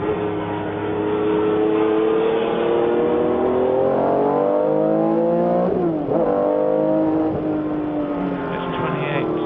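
Vintage race cars, among them a 1974 Porsche 911 RSR, scream past at around 130 mph on a circuit under a bridge, with overlapping engine notes rising and falling close by. The engines stay loud and continuous, and a sharp pitch swing near the middle marks a car going by.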